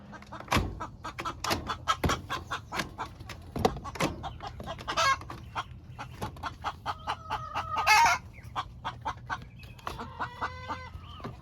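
Chickens clucking and cackling near a barn in a rural setting, with several birds calling close by in irregular bursts, including a few brief crowing calls, and some scraping and rustling underneath.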